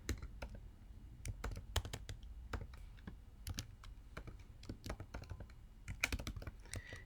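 Someone types on a computer keyboard to fill in an account sign-up form, producing quick, uneven bursts of close, light key clicks.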